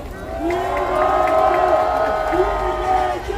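At an outdoor political rally in Yeouido, a big crowd claps and cheers as a young city councillor is welcomed to the stage, a loud sustained wash of applause with a prominent tonal voice or music line running through it.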